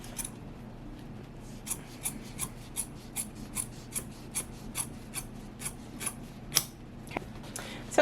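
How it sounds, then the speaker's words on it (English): Scissors trim the seam allowance between two layers of fabric on a quilted shoulder bag. Quiet, close snips repeat in a steady rhythm about three times a second, with no talking. "So I'm just putting my scissors right in between those 2 layers,"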